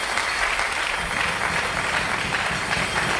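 A church congregation applauds at a worship service, a dense, steady wash of clapping that holds at an even level from start to finish, close and full, with no talk above it.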